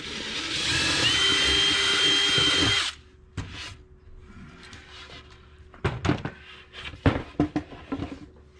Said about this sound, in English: I'm going to pre-drill my hole, the center hole here